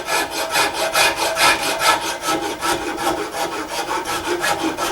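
Smooth rasp filing a bronze gun casting, rhythmic back-and-forth strokes, close and steady, with a gritty scraping texture and no voices.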